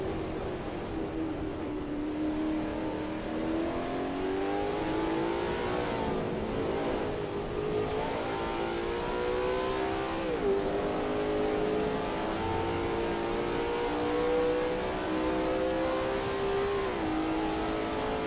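Lola T70 MkII Spyder race car engine in a racing video game at Spa, a steady, loud high-revving drone with rising and falling pitch through gear changes and corners, continuous for the whole stretch with no talk.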